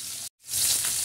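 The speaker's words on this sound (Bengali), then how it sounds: "এভাবে আমি এক এক করে সব মাছগুলো ভেজে নেব।" Silver carp fish pieces frying slowly in hot oil, a dense close sizzle that cuts out for a brief moment and then returns just as strongly.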